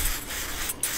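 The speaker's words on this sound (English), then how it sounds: "basically spray it on, work it in" Cleaner is sprayed and worked onto a carbon-fouled EGR valve from a Mercedes 220 CDI OM646 diesel engine, a close hissing, scrubbing sound with a brief pause near the end.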